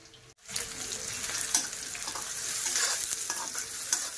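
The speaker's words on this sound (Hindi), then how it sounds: "ओनियन, गार्लिक और ये ग्रीन चिली, ये सब चीज़ डाल दी हैं। अब इसमें डाल दूंगी सब्जी, कैप्सिकम, कैरेट" Onion, garlic, green chili, capsicum and carrot stir-fried for noodles in a home kitchen, a steady close sizzle with scraping stirs and occasional clinks, starting abruptly after a brief quiet moment and continuing without talk.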